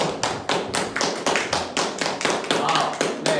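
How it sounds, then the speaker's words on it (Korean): A group claps hands in a steady rhythm of about seven beats, loud and close, while voices talk over the claps. "박수부터 치고 시작합시다"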